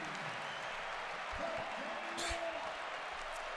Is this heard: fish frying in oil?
no